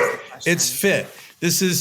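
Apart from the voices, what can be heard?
dog barking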